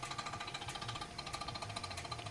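A hammer strikes a steel blade while the edge bevels are forged, a rapid, continuous run of sharp metallic blows at an even rhythm, with no speech.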